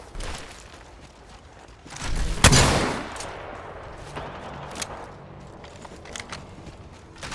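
One loud, sharp shot of video game gunfire bursts out near the middle, followed by a few faint, scattered pops over quiet game ambience.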